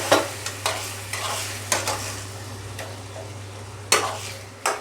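Potatoes being stirred and cut with a spatula in a frying pan over a steady sizzle, with a series of sharp scraping clicks spaced irregularly throughout.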